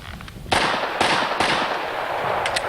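Smith & Wesson 1006 pistol firing 10mm rounds outdoors, four sharp, loud, evenly spaced shots with fast fading echoes, then two quieter cracks at the end.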